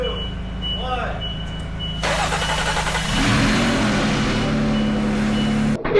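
A newly installed 3.6 engine in a Gladiator cranks, catches and rises into a loud, steady idle close by, with background noise throughout.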